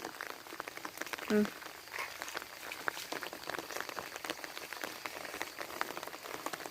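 Steady rain patters on a surface, a soft continuous hiss with scattered drops, faint and even throughout.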